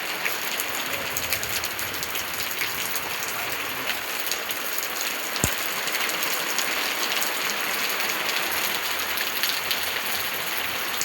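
The first May rain in Konkan falls steadily, a constant broad hiss of drops on surfaces at moderate level, with one sharp tap midway and no voices.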